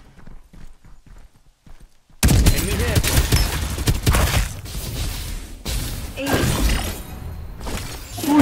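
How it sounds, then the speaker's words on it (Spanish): Rapid bursts of gunfire in the battle royale video game Farlight 84, with loud cracking volleys and clattering impacts following a quiet stretch, the shots continuing in clusters, some near and some further away. "Escucha un disparo de esa dirección"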